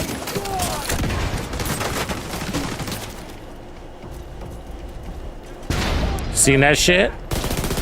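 Explosive grenade-launcher and gunfire bursts in the shooter game The Division 2, loud and dense for the first few seconds, then a lull and a fresh burst near the end, with someone talking briefly over it.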